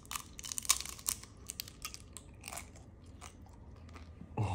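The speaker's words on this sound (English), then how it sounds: "it should be crunchy and delicious." Crisp bites crunch into a frozen ice cream and fruit roll-up dessert straight from the freezer, a string of sharp close crackles and chewing crunches, louder at first and then tapering.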